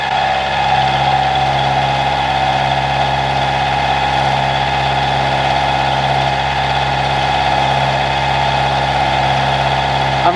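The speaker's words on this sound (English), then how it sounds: "I'm running this with a 12mm carbide roughing end mill" A 12mm carbide roughing end mill cutting metal at a 1mm depth of cut on a milling machine, a steady droning machine hum with a high cutting whine layered over it, constant and close.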